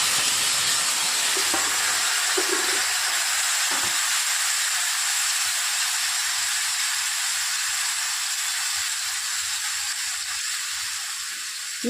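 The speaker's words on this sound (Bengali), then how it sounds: "চিকেন করছি, চিকেনটা ঢেলে দিলাম।" Marinated chicken poured into hot oil with bay leaf, a loud, dense, continuous sizzle and hiss that stays steady throughout, close up, with a few faint clinks underneath and no talking.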